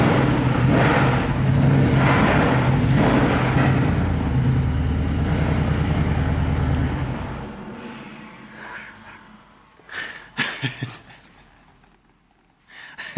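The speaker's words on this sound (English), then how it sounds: "Just listen to this exhaust" A Porsche Cayenne Turbo gives a loud, sustained engine roar with a rumbling exhaust note for several seconds, then it cuts out, leaving a few short clunks and mechanical rattles.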